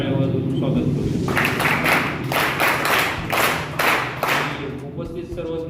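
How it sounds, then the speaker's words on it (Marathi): An audience claps to welcome guests onto the stage at a Balasaheb Thackeray birth anniversary event, a burst of clapping building then fading over a few seconds while a voice talks. "आपण सर्वांनी त्यांचं टाळ्या वाजवून स्वागत करू"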